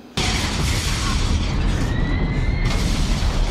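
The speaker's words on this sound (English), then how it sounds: "So the elevator saves you from an explosion like that." A loud explosion from the 1991 film Terminator 2 erupts suddenly after a brief quiet start, then sustains as a dense, rumbling roar with debris and a faint whine, continuing steadily to the end.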